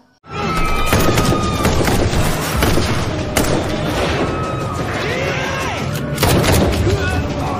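Gunfire erupts in a film shootout as armed drug-mafia troops fight off a raiding team: loud, dense, overlapping bursts of shots and crashing impacts, sustained nearly without pause for the whole stretch.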